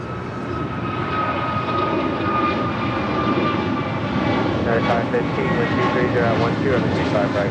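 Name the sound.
American Airlines Airbus A321neo jet departing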